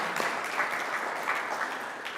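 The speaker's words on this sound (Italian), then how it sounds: "Li accogliamo con un applauso" Fairly soft, steady applause from an audience at an Italian university talk, welcoming two speakers with an even patter of clapping heard from some distance.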